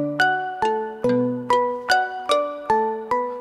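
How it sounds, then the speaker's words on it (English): A synth patch from the Slate Digital ANA2 layers a synth tone with bell and kalimba samples, playing eight clean plucked notes in an even rhythm, each with a bright chiming attack and a short ringing decay. "sounds like we've got a synth tone, plus a bell sample, plus a kalimba sample."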